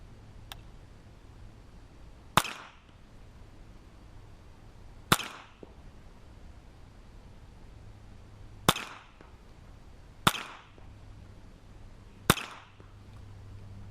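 A Marlin Model A1 rifle fires six sharp, isolated shots spaced a couple of seconds apart over a low background hum, each a crisp crack with a short fading tail, heard at moderate distance.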